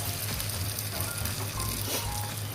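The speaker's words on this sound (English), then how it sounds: "we'll incorporate the butter and the garlic to our tomatoes" Butter, garlic and tomatoes sizzling steadily in a hot pan on medium-low heat for a tomato pesto pasta, a continuous fry hiss with faint stirring movement and no voices.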